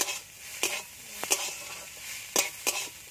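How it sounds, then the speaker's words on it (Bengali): Radish greens frying in a little oil, a soft sizzle broken by several crisp spatula scrapes against the pan, close and fairly quiet, with no voices. "সামান্য একটু তেল আর একটু ভালো করে ভেজে নেব"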